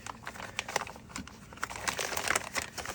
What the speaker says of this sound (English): remove the contents from the plastic bag